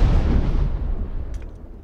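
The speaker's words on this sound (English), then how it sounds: "He threw a grenade." A grenade blows up in PUBG, a single deep, heavy boom that rolls out and fades over a couple of seconds, heard from a moderate distance with no voices.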